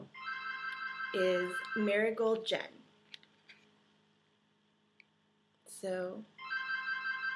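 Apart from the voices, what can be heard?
mobile phone ringtone ringing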